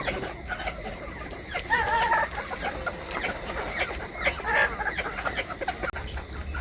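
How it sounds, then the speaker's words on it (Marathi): Several chickens cluck in short bursts against a busy farmyard background, with a few sharper calls standing out near the middle. "या कोंबड्यांची सुद्धा तुम्ही क्वालिटी बघत असाल हे बघा खूप सुंदर अशा कोंबड्या आहेत आपल्या"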